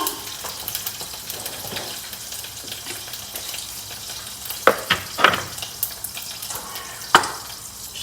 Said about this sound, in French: je suis en train de faire fondre un petit peu mon beurre aux fines herbes